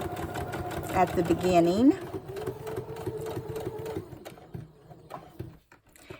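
A sewing machine back stitches fabric while making an envelope with pockets, a close mechanical whir that runs in bursts, with a person talking over the start.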